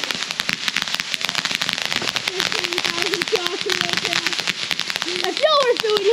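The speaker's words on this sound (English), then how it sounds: "If y'all are feeling hungry, go buy the popcorn fireworks." Popcorn fireworks at a July Fourth show crackle in a dense, rapid stream of sharp pops that runs the whole way through, fairly close and loud, while people talk over them.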